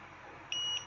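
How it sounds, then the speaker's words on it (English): A single short, high electronic beep from a TKM359CE Leeb hardness tester over a faint steady hum. "beep is coming."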